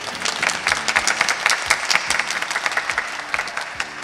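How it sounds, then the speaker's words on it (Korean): A church congregation at a special dawn revival service claps loudly, a dense, lively burst of many hands with slightly uneven peaks, close and full throughout. "하나님께 영광의 박수 올려드리겠습니다."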